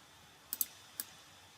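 A computer mouse clicks while someone picks text and a font in design software: three sharp, close clicks, two in quick succession and a third a moment later, over quiet room hiss.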